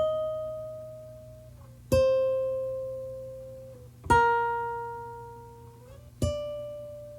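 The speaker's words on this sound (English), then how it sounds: "I added one other guitar playing a different part in the same section of the song" A second lofi electric guitar part plays three sparse, bright notes or chords with long ringing decays and slight pitch bends between them, close and alone over a faint hum.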